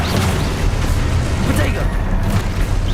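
Spell blasts boom in the Hogwarts Legacy video game. Dense, loud explosive bursts and crackling impacts pile up continuously, with a voice calling out over the din.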